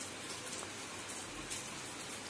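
Steady rain falling outdoors near plants, a continuous even hiss of drops on surfaces without pauses, heard alone with no voices.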